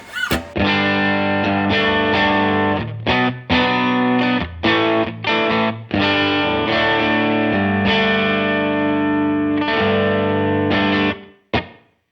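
Electric guitar played through an HX Stomp preset of AC and Matchless amp tones with a 6 dB clean boost, a loud, crisp, slightly driven run of picked chords and notes with short choppy gaps, ringing out alone.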